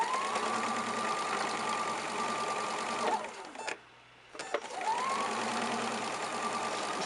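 A sewing machine runs at steady speed stitching a quilt seam, whirring close and loud, pausing briefly in the middle, then starting up again.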